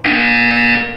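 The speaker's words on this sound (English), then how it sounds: "When you hear the buzzer, look down at the floor." A buzzer from the video game Portal 2 sounds once as a single loud, steady electronic tone lasting about a second, alone and clean.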